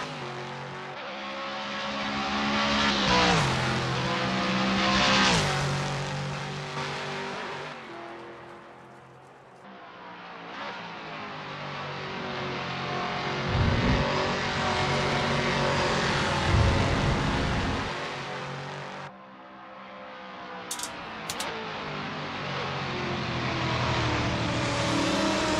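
A Toyota Supra LM GT1 race car in Assetto Corsa at Road America roars loudly through rising revs and gear shifts, with brief dips as it lifts off and climbs again.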